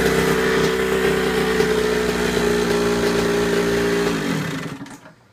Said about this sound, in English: So I got the KX80 put together. It runs.